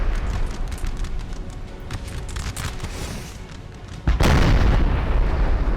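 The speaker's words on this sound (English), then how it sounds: "That was a cannonball shot." Cannon fire in the Napoleon: Total War battle game, a dense rumble of distant artillery booms that breaks into a louder, closer blast near the end.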